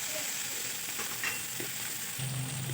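Chopped onions frying in a pan for a rohu fish curry, a steady close sizzle with faint scraping and a brief low rumble near the end.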